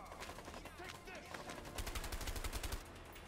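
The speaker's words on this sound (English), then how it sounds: "Who the fuck is shooting me and how?" Rapid gunfire rattles in the video game A Way Out, a dense run of sharp, evenly spaced shots that grows louder into a quick automatic burst near the end, with a voice mixed in.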